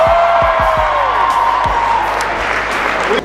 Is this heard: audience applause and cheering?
yes